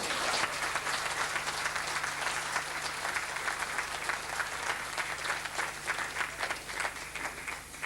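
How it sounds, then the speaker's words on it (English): A boxing-night crowd in Mayo claps for a sponsor in a big, sustained round of applause that stays loud and dense throughout, with a low steady hum underneath. "a big round of applause"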